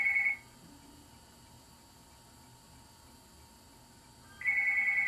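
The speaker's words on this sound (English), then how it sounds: "I turned off my phone. Forgot to turn it off. We didn't think about other phones." A telephone rings in a quiet room, an electronic ringtone burst at the start followed by a pause of several seconds, then the ringing starts again, moderately loud with no talking.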